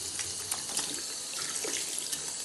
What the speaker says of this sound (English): Turn the tap on, rinse my cloth again.